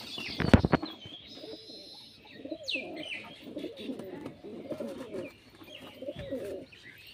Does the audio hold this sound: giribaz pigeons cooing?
yes